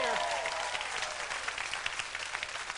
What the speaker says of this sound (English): Round of applause for that man.